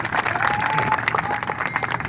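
Audience clapping at a Hindi poetry recital (kavi sammelan) in Kota, a dense, steady patter of many hands filling the hall for a couple of seconds with no voices over it.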